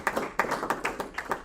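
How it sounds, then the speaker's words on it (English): A handful of people clap after a discussion, sparse separate claps close by at an uneven rhythm for a moment. "round of applause for excellent discussion"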